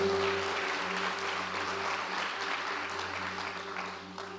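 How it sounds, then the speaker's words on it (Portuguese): A church congregation applauds during a sermon, soft diffuse clapping at moderate distance over a steady low electrical hum, fading slightly toward the end. "Você pode aplaudir o nome do Senhor?"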